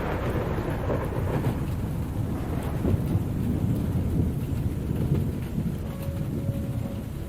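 Steady heavy rain drums on a cozy camper near pine woods, with low rolling thunder rumbling continuously beneath the downpour and no voices.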